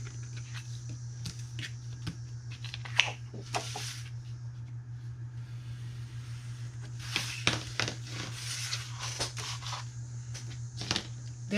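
Scissors trimming excess material from a Dollar Tree dry erase board craft, a run of quiet crisp snips in irregular clusters over a low steady hum, close and faint.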